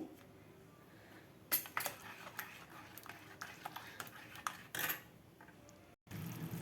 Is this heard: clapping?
no